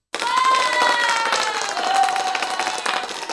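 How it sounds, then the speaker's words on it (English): A crowd at an IndyCar event near the U.S. Capitol breaks into loud applause and cheering, sustained clapping with whoops and shouts throughout, no clear talk over it. "where's my applause at again?"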